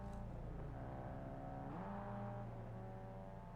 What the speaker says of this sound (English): There's cars driving by and it sounds like my gardener.